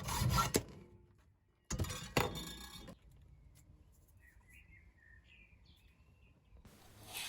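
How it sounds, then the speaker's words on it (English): Hacksaw sawing screws down to length in a garage, a few short raspy bursts of strokes separated by quiet gaps, faint and close, with faint bird chirps in the background. "I then headed into the garage to start sawing down some screws to an appropriate length"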